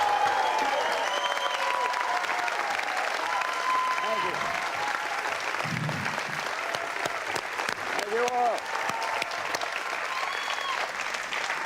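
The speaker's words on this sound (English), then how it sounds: "Everywhere you go, people just stand up and start clapping, right?" Sustained loud applause from an audience giving a standing ovation on a stage for a guest, dense clapping throughout with some cheers and a voice speaking over it.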